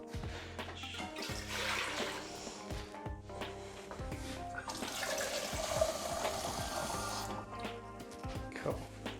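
Roughly one and a half litres of water pours into a pot set on a stove over high heat, a continuous splashing and gurgling stream that swells and settles over several seconds.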